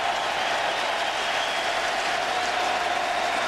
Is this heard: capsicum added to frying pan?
no